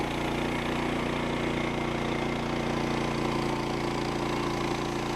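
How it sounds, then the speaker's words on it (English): A sawmill engine runs steadily while a small log is sawn into half-inch siding boards, giving a loud, continuous mechanical drone with no pauses and no voices. "This log is too small to make structural members, so I'm cutting it into 1/2-inch siding."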